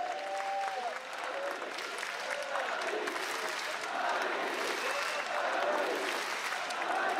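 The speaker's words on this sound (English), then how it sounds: "Great hearing the chants again from the audience." Esports arena crowd at the League of Legends 2015 World Championship semifinal applauds and cheers steadily, a dense wash of clapping and distant chanting from a large audience with no speech over it.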